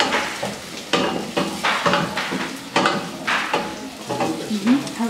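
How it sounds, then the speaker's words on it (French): Peppers and beans are stirred in oil in a cooking pot, giving repeated scraping and clattering strokes over a steady sizzle. The sound is close and continuous, with no talking. "Tukomeza tugaragura kugira ngo poivron zacu nazo zize gufata amavuta"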